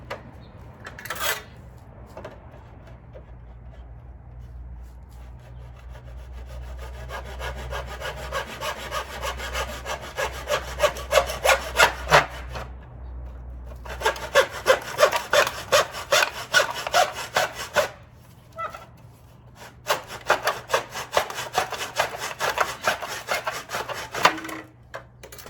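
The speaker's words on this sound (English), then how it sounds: "So got the miter box and the saw here. Let's make our cut where we made our tape mark." Hand saw cutting through wood held in a miter box during a yard lighting installation, with steady rhythmic back-and-forth strokes up close, pausing briefly and then resuming in a second run of strokes.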